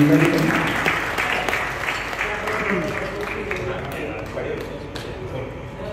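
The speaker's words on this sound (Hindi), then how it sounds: "जोरदार तालियों से स्वागत करें, अभिनंदन करें।" An audience claps loudly at an evening religious gathering on the Braj 84 Kos pilgrimage, dense steady applause that slowly fades, with a voice speaking over it.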